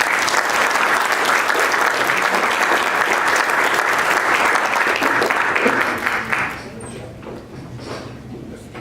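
Audience applause fills an evening civic leadership gathering, steady sustained clapping from a crowd that thins and fades out near the end.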